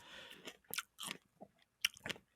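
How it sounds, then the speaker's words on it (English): Close-miked eating of fresh strawberries, with a few separate wet bites and chews spaced out over a couple of seconds, soft and squishy, with no talk. "They like to hear us slurping up the strawberry."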